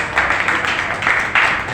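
Audience applause at a mushaira, a poetry gathering held by the Anjuman Pasbane Adab society: a dense, steady wash of many hands clapping together, held for a couple of seconds with small swells in loudness.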